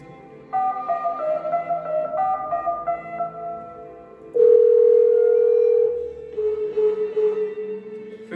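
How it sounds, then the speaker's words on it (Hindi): A telephone gives an electronic tone after a call is hung up, a few steady beeping tones followed by a loud sustained tone and then a softer tone, with nobody speaking. "फिर से फोन काट दिया शारदा जी।"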